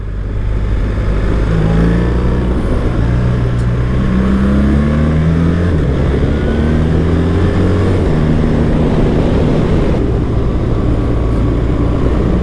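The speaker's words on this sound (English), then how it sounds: "while I ride home along Lake Garda" BMW R 1300 GS motorcycle ridden along Lake Garda, its engine droning steadily and loudly throughout with rising and falling pitch through gear changes, wrapped in constant wind rush.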